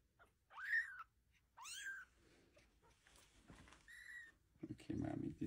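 A kitten meows several times in high, rising calls at close range, separated by short pauses, with household noise and some voice activity in the background.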